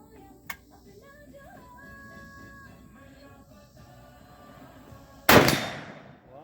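A Model 70 rifle chambered in .270 fires a single loud, sharp report near the end that decays in a rolling echo, preceded by a faint click and quiet outdoor background.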